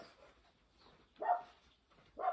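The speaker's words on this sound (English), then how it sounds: "There's my dog barking." A dog barks twice at a distance, two short muffled bursts separated by a quiet pause, with faint room noise between.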